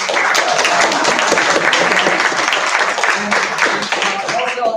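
An audience at a school forensics night breaks into sustained applause, dense clapping from many hands at a fairly loud level, with voices mixed in underneath.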